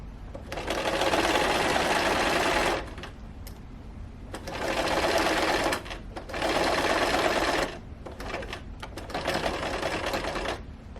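A sewing machine stitches the body of a fabric sofa slipcover in four steady runs of fast, even whirring, separated by short pauses to pivot the fabric, close and loud with no talking over it.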